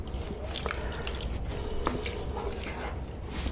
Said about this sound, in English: So I'm letting it all boil up for a couple of minutes